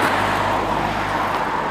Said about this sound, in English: Noisy though, lots of traffic.